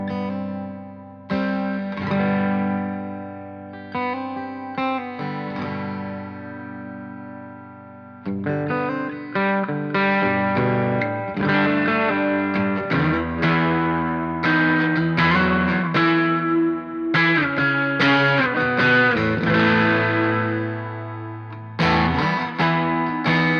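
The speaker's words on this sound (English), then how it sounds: "from the acoustic sound with no electric to all of the electric pickup being blended in" A Fender Acoustasonic Telecaster strums chords with a bright, slightly processed tone that grows fuller as the electric pickup is blended into the acoustic sound, played steadily without any voices.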